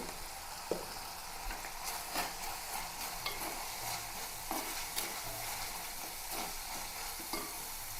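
Green chilli, onion and garlic frying in a pan with turmeric, a steady sizzle broken by repeated clinks and scrapes of a spoon stirring, close up with no talk.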